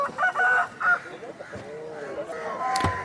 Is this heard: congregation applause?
no